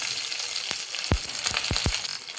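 Cumin, garlic and curry leaves frying in hot oil, giving a continuous bright sizzle with several low thumps and scrapes of stirring, close up and without speech.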